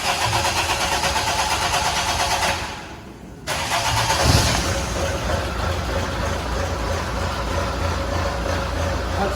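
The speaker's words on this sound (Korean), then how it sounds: "그다음 이 상태에서 이제 시동을 거시면 되죠" A car engine cranks briefly and catches, then settles into a steady, loud mid-pitched idle close by, with no voices over it.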